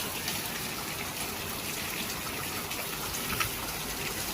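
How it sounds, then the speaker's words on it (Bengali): Heavy rain pours down outside at midday, a steady, dense hiss of falling water that holds evenly throughout without any talk. "বাইরে দেখো প্রচুর পরিমাণে বৃষ্টি হচ্ছে"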